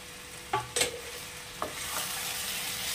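Pre-fried unripe jackfruit and potato are tipped into a pan for a Bengali kalia and stirred. A couple of sharp knocks and a scrape come over a soft, steady frying hiss that continues to the end.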